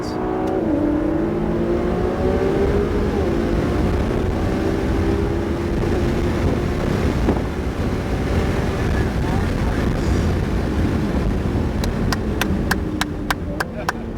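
A car accelerates on a driving track at Motor Enclave, its engine note climbing steadily and staying loud and close throughout, with rhythmic ticking near the end and a voice talking over it.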